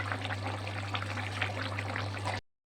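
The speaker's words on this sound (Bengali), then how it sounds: "তার নামাবার আগে একটু ঘি দিয়ে দেবো" Ghee is poured into a simmering fish curry of bata and tilapia, giving a soft, steady pour and sizzle over a low hum for about two seconds before it cuts off.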